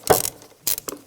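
A ratchet with a 10mm socket loosens a bolt on a throttle cable bracket of a 1996-2002 Toyota 4Runner engine, giving three short, close mechanical clicking bursts.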